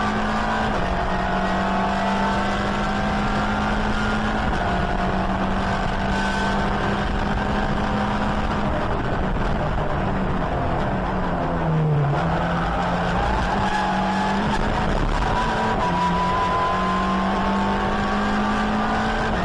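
Honda Civic race car running at Donington Park, heard onboard from the driver's helmet, its engine droning steadily with shifting pitch through gear changes, loud and continuous for the whole stretch.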